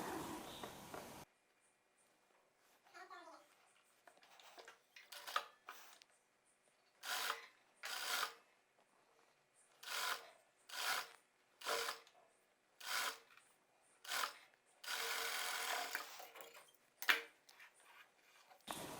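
A sewing machine stitches the side of a petticoat in short, repeated whirring bursts, roughly ten runs of about a second each with pauses between, fairly faint and close, with no talking.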